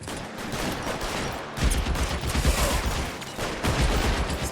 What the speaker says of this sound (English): I want to shoot him here.